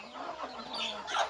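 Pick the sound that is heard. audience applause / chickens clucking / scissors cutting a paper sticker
chickens clucking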